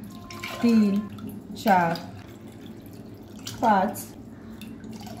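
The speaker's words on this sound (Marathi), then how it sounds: "त्याच वाटीच्या प्रमाणात 6 वाट्या पाणी टाकूया।" Cups of water are tipped into lentils in a pressure cooker, three distinct gurgling pours spaced about a second apart, each short and close, while a voice counts along between them.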